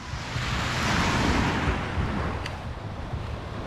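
Sea surf washing onto Dipaculao beach in Aurora, a soft swelling rush of waves with wind noise buffeting the microphone, fairly faint and steady without speech.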